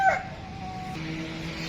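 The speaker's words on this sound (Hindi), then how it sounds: "मेरा मुर्गा ना आजाने दे जा रहा है सुबह सुबह ही" A rooster crows once, a drawn-out call that drops in pitch partway through, fairly close and clear against a quiet background.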